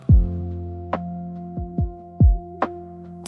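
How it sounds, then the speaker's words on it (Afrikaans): Heartbeat sound effect in an Afrikaans song: deep, booming low thumps in an irregular pulse over a sustained musical drone, with higher plucked accents between beats and no voice. "my hart klop."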